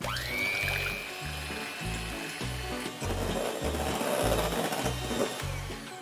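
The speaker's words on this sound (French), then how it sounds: "Et c'est parti avec le batteur." An electric hand mixer whips egg whites with sugar in a bowl, giving a close, continuous whir with regular rhythmic pulses as the beaters move through the mixture.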